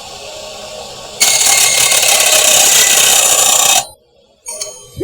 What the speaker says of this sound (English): we're going to make a 45-degree angle cut here